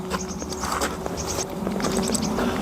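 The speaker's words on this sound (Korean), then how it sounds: "이 새소리 들리십니까?" Birds chirp in short, scattered calls over a soft outdoor background hum, fairly faint and irregular.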